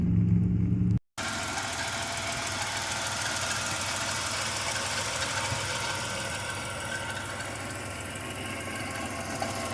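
A 1991 Chrysler New Yorker Fifth Avenue sits idling with a steady, even engine drone and soft exhaust rumble, heard close after a brief cut near the start, with no voices.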